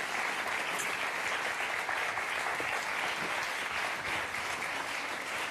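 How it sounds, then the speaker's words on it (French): A studio audience at a French Sunday television talk show breaks into dense, sustained applause that stays loud and even throughout, with no voices rising above it. "Je vous demande d'applaudir Louane."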